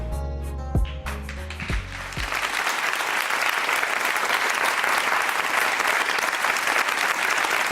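Energetic audience applause rises for a contestant on a French talent show, starting as the last musical notes fade and then continuing as a thick, steady clapping crowd, loud and sustained.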